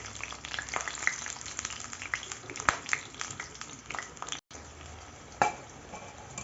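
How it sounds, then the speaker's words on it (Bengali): Plain eggplant slices, with no salt or turmeric on them, fry in hot oil with a steady close sizzle and crackle, occasional stirring clinks, and a short sharp pop near the end. "এবার বেগুনগুলোকে ভেজে নেব।"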